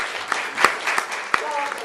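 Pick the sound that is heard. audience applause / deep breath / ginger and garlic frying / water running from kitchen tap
audience applause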